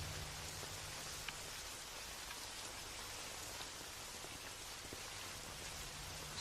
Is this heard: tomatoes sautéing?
no